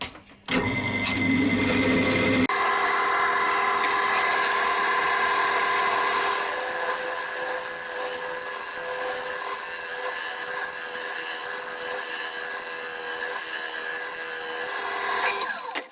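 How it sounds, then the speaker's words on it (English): A small carbide cutter hollows out a padauk wood box spinning on a wood lathe. A steady, loud, high whine and scraping drone runs continuously after a brief start-up, with no talk. "I'll carry on with the little carbide cutter"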